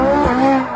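A new Ferrari skids on a road, giving a loud, brief burst of tire squeal mixed with engine noise and no talk.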